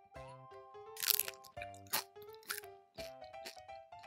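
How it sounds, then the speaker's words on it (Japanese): Bites into a crispy Korean chijimi pancake make several sharp, close crunches in irregular bursts, with a sustained tonal backing underneath. "チヂミの概念を崩したパリパリなチヂミでございます。"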